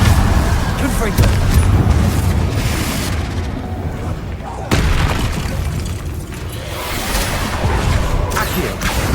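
Confringo fire spell blasts in Hogwarts Legacy, loud booming bursts over a dense rumbling game soundscape, with a spell-casting voice shouting over the blasts.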